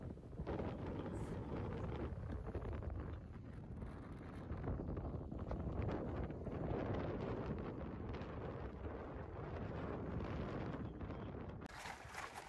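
Strong wind gusts up to 20 knots roar across the microphone aboard a Cornish Shrimper 19 under sail with both reefs in and a full jib, a steady, rumbling buffeting that continues throughout.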